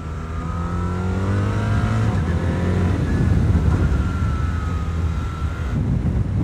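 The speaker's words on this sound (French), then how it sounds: "quand on rétrograde comme ça au shifter avec le bicylindre, on a quand même pas mal de frein moteur" BMW R 1300 RS twin-cylinder motorcycle downshifting through the quickshifter, its engine note falling in steady stepped drops with strong engine braking, loud and close under rushing wind, no voices.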